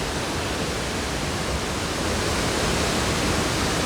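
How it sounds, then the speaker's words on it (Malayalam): Ezharakund waterfall in the Paithalmala valley of North Kerala, a steady, dense roar of falling water that fills the scene without pause and swells slightly toward the end. "ഈ വെള്ളച്ചാട്ടം കണ്ടു"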